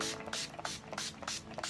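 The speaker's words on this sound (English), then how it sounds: "So I'm just going to spritz my face with the Urban Decay De-Slick Setting Spray first." Urban Decay De-Slick setting spray misted onto a face: several quick, close, airy spritzes in a steady rhythm, each a short soft hiss.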